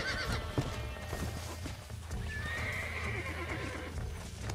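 A horse in Red Dead Redemption neighs with a drawn-out whinny while hooves clip-clop steadily beneath, set against a low droning backdrop.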